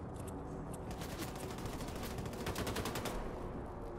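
Rapid, loud automatic gunfire from a gun in the Wolfenstein 2: The New Colossus video game fires in a dense, continuous stream of sharp shots, heard alone without talk.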